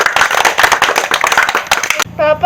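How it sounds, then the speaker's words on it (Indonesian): An audience claps at a storytelling event, a quick, fairly loud run of hand claps that ends abruptly as a tonal sound cuts in. "Kita beri tepuk tangan sekali lagi."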